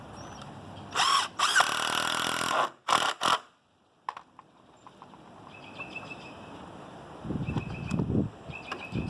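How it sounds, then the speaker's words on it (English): A power drill drives screws into a construction leg in several loud whirring bursts of varying length, followed by quieter handling and shuffling noises. "We're going to go ahead and put the screws in."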